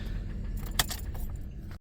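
1997 Dodge Caravan engine idling while up on ramps, a steady close low rumble with a brief metallic jangle partway through, then it cuts off abruptly.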